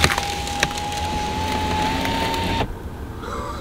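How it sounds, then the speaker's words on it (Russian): An ice-covered car window slides down with a steady electric motor whine for a few seconds while the ice crackles and splinters, then the motor stops. "Сейчас мы опустим стеклышко."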